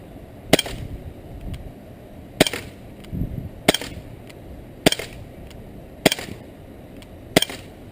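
Beretta APX CO2 BB pistol firing at outdoor targets: six sharp, loud pops spaced about a second apart, each a crisp crack with a brief ring over steady background noise.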